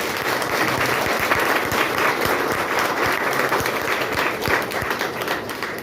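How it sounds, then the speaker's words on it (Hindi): Audience clapping loudly for itself at a motivational seminar, dense continuous applause from a large crowd held steady for several seconds. "जोरदार ताली बजा दीजिए अपने लिए आप लोग।"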